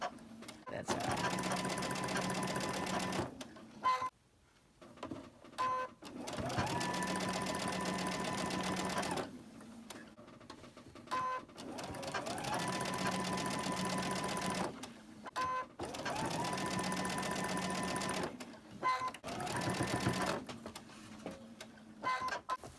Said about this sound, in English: So let's get them sewn.